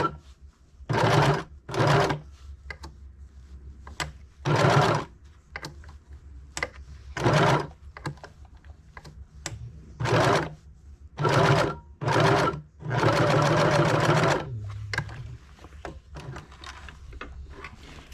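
A sewing machine sews a neckline finish onto a machine-knit blouse in short, loud bursts of stitching separated by pauses, with one longer run near the end, all close by and with no talk.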